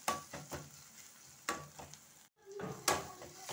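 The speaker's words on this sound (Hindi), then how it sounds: "एक मिनट इसके साथ भी इसको भूनते हैं।" Ginger garlic paste frying in a pan, with soft sizzling under repeated stirring and scraping strokes, quiet and close, no talking.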